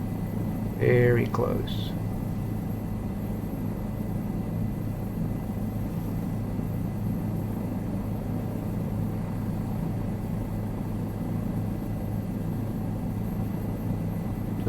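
A helicopter's engine and rotor drone steadily in a flight simulator game with a 500E and Bell 407 in flight, a low constant hum and whine under a short burst of speech at the start.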